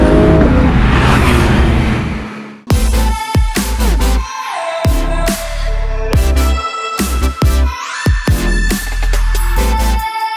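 A 1968 Volkswagen Beetle Volksrod drives through Wynwood, the engine revving hard and climbing through repeated gear changes with sharp shifts between pulls, loud and close after a brief rushing start.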